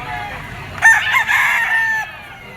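A rooster stag at a poultry pen gives a single loud, close crow lasting just over a second, rising and holding before trailing off.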